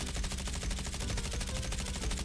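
Automatic gunfire from the mobile video game Call of Duty Mobile rattles in one continuous, loud, fast burst without a break.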